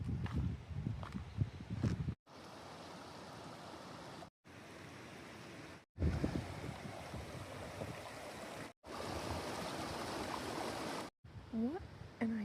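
Mountain stream water spilling out beside a switchback trail near Kearsarge Pass, a steady broadband rush heard in stretches between breaks, with brief voice-like sounds and footsteps early on.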